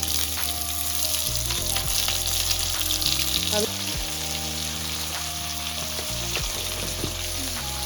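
Steady loud sizzling of onions frying in a pan, with occasional scraping stirs, continuous and close throughout.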